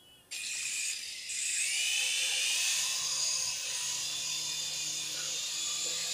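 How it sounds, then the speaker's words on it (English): A cheap toy RC helicopter from Amazon spinning up and flying nearby: a sudden start into a steady, high-pitched buzzing whine that holds loud and constant throughout. "Is the helicopter even on? Well, there we go."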